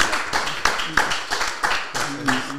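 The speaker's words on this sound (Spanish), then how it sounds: "I want to give you a applause." Clapping from a small group, sharp irregular claps repeating steadily for a few seconds, close and fairly loud, with some voices mixed in.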